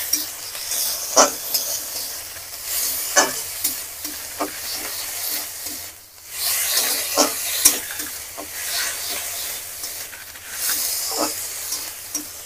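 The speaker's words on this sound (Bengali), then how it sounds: "একসঙ্গে ভালো করে ভেজে নেবো।" Ginger, garlic, onion and pointed gourd seeds sizzle in a pan, a continuous close frying hiss broken by repeated scraping stirs and clicks of a spatula, pausing briefly midway before resuming.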